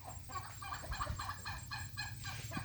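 A turkey gobbles in a rapid rolling burst of repeated throaty notes, fairly close, over faint background noise.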